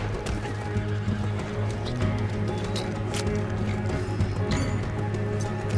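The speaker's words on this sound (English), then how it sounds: "Let's get to those horses, Morgan!" Horses gallop in the Western video game Red Dead Redemption 2, with continuous close hoofbeats and several whinnies over a steady game soundtrack.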